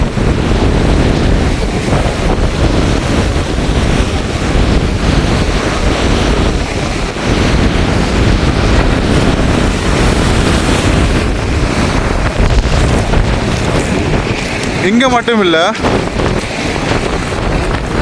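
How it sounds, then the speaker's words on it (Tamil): Strong storm wind buffets the microphone while sea waves crash along the Point Pedro coast, a loud, continuous roar throughout, with a voice talking over it. "பயங்கரமாக வந்து காற்று அடித்து கொண்டு இருக்குது"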